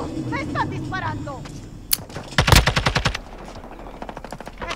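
Automatic gunfire in Call of Duty MW2 rattles out in a rapid, loud burst of shots after a single sharp crack, with a short trailing volley, while a voice talks before the shooting.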